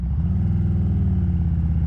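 A touring bagger motorcycle with dual exhaust pipes and a performance setup rumbles close and loud, its deep, throbbing engine note held steady throughout without any break.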